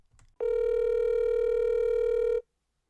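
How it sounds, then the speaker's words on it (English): An outgoing telephone call rings out as a single steady electronic ring tone lasting about two seconds, preceded by a faint click and followed by silence. "So let's give him a call really quick."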